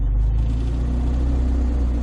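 A classic Fiat 500 with a manual gearbox pulls away, its small engine rumbling and revving steadily at close range for a couple of seconds with no talk over it.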